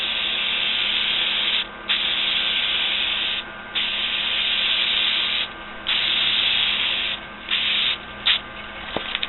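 A rattle can of clear coat hisses in long continuous bursts, close and steady, with brief gaps between passes and a faint click near the end.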